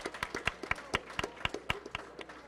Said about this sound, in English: please join me in a round of applause again for the mentors who have devoted their own time for helping each and every one of us